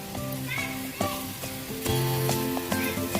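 Hot dogs sizzling on a grill, a continuous close frying crackle with faint stirring under steady background music.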